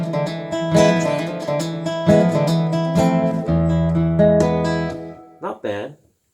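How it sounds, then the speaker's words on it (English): A Fender Smolder nylon-string acoustic guitar, plugged in through its piezo pickup, plays a short strummed and picked passage with a slightly thin, quacky tone, ending abruptly with a brief voice afterward. "just so you only get the nylon string sound,"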